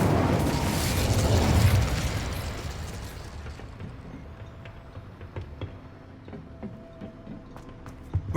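An Incendio fire spell cast in Hogwarts Legacy bursts out as a loud whooshing blast of flame that fades over a couple of seconds into quiet rumble with scattered small clicks.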